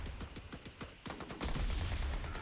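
Gunfire in the video game Cuisine Royale: a rapid string of shots, then a louder, denser burst of overlapping fire, with no talking.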